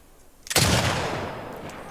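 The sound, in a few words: gunshots in video game The Last of Us Part 2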